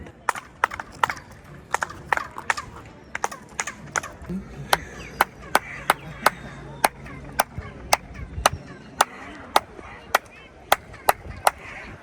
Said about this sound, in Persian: دقیقاً وقتی مرکزش قرار میگیریم دستی که میزنیم صدا پرنده میاد